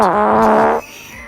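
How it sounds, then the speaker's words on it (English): Fart sound effect in Cities: Skylines 2, a single loud, close, buzzing blurt lasting under a second before cutting off abruptly, followed by faint background hum. "there's a fart"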